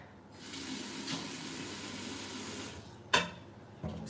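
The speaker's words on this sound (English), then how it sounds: "Let's add a little bit of water." Water poured into a pot of okra stew on the stove, a steady hiss of filling liquid running for about three seconds, then a sharp clatter and a second brief knock near the end.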